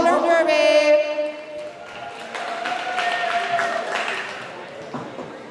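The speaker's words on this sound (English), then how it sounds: "Big applause for Oslo Roller Derby." Roller derby crowd in a venue applauding Oslo Roller Derby, steady clapping and cheers rising after an announcer's voice at the start, with scattered whoops over the clapping.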